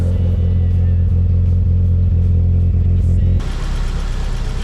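A Toyota 3SGE engine in a KE70/AE86 running loud and close with a rapid, steady pulsing drone, then dropping to a rougher, lower idle partway through.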